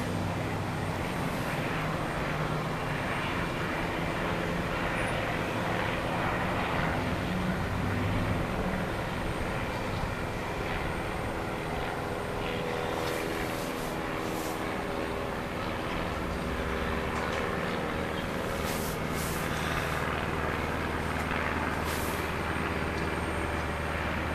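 A United regional jet airliner passes at an airport, a steady broadband roar of engine and air noise holding throughout, continuous and fairly loud with no talk.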